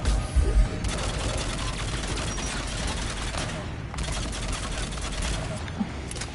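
Sustained gunfire in the video game Mass Effect Legendary Edition forms a dense, loud wash of rapid shots and impacts that runs continuously for several seconds.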